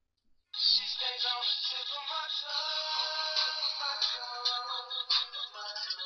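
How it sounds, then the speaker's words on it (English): A phone line rings steadily on an outgoing test call, a continuous electronic ringtone that starts after a brief silence and carries on, close and clear, with no talk. "so now we'll place a call to test it out"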